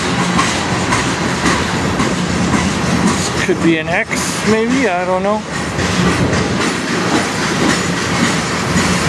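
A CN train rolls past loudly on the Strathroy Sub rails in Sarnia, Ontario, a dense steady roar of wheels and cars, while someone talks briefly in the middle.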